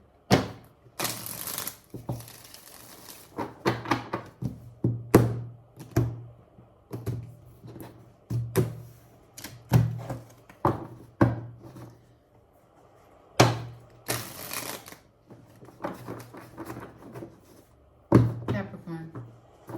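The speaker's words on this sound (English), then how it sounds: "Shuffling for Capricorn." Tarot cards being shuffled by hand, heard as repeated short riffling bursts and soft taps spaced unevenly over twenty seconds, close and fairly quiet with pauses between.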